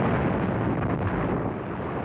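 A deep, continuous roar of a gunpowder store exploding after a lightning strike, a dense low rumble that holds steady and fades slightly, with no voices.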